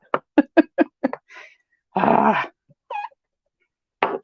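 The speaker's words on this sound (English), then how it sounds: "I hope you can't hear my poor cat. He sounds absolutely pitiful, and it's just because the door's shut." A cat wails behind a shut door, its drawn-out moan muffled and mid-loud after a quick series of sharp knocking taps nearby, followed by a shorter cry and another burst of taps.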